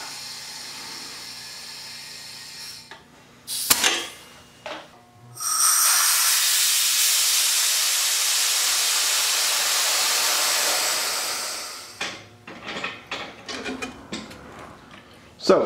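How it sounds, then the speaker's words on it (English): Air hisses loudly and steadily for several seconds as a pressure pot holding resin for a charcoal bowl is pressurized to 50 psi, framed by short clicks and bursts of valve noise before and after. "pressurize the pot up to 50 psi"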